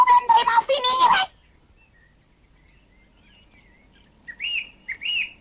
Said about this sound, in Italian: all'alba cantò il primo merlo